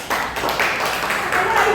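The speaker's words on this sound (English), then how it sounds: "Give applause to Adalah." Classmates in a high school English class clap together in a brief, steady patter of applause that starts sharply and holds at even loudness for a couple of seconds.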